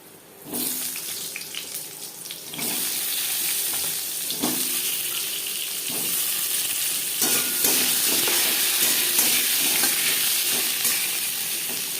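Potatoes hit hot mustard-colored oil already tempered with cumin seeds and bay leaf, a broad continuous sizzle and hiss with occasional clatter of a spoon, loud and close throughout.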